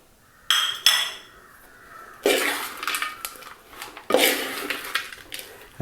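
Fried cashews and peanuts being stirred into sweet rice flakes: hard metallic scrapes and clinks of a spoon against the pan in several loud bursts, close by.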